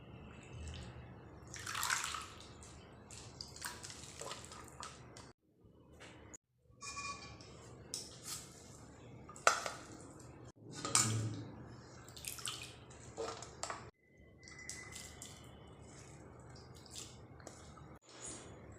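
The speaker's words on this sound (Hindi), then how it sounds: "आलू को ग्रेट करने के बाद हम एक बड़े से भगोना में पानी लेंगे और इसे 2 से 3 बार अच्छी तरीके से धो के साफ़ कर लेंगे" Grated raw potatoes are washed in water in a large pot, with sloshing, splashing and dripping sounds coming in irregular bursts separated by brief quiet gaps.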